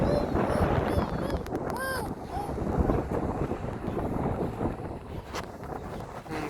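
A boat ride on the open sea, with steady wind buffeting the microphone and a continuous engine-and-water rush throughout, with voices shouting in the background.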